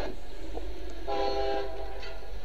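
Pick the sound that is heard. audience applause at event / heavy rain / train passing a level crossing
train passing a level crossing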